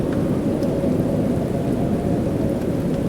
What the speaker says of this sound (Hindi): बादल गरज रहे हैं और घर की दीवारें कांप रही हैं।